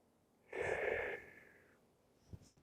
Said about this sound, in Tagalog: Kaya gagawin mo ang paghinga sa ganitong paraan.